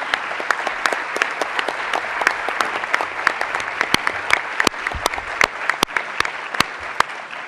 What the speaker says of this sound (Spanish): les voy a pedir un aplauso para todo el panel